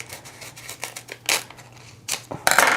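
Scissors snipping off excess die-cut paper: several crisp, quick cuts spaced irregularly, close and clear, with a burst of louder snips at the end.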